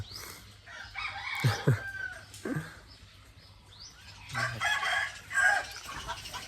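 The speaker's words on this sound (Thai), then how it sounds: "ไก่กำลังขันเลย" A rooster crows at dawn in a rural village in Isan, Thailand, with several loud, drawn-out cock-a-doodle-doo calls, nearby clucking and other crowing in the background.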